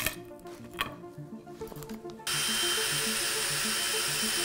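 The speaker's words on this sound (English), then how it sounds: "I can even reverse my drill and try to unscrew it." A power drill whirs in short bursts with scraping and knocking as it turns a wooden dowel friction-welded into a hole, then runs loud and continuous at a steady high whine.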